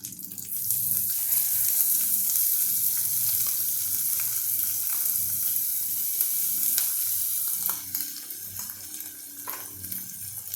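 Frozen green peas hit a hot pan and sizzle steadily with a loud, dense frying hiss and occasional stirring scrapes, easing slightly toward the end; no one speaks.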